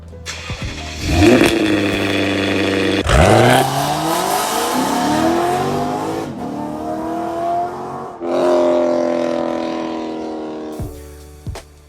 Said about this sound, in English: It basically takes the Lexus V8, which already sounds amazing, and brings that closer to sounding like a high-pitched V10